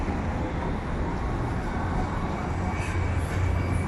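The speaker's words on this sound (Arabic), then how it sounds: "ادي المترو." A metro tram rumbling through Laleli square in Istanbul, a dense, steady roar with broadband rail noise and a low hum, close and continuous throughout with no clear talking.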